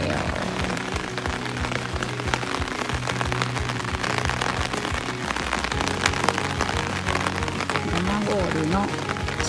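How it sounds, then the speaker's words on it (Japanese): Rain falls at a fishing harbor, a dense steady patter on surfaces with a low background rumble; someone speaks briefly near the end. "今日は雨ですけど釣りに来ましたよ。"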